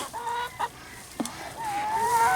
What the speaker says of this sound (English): I hear the ducks now.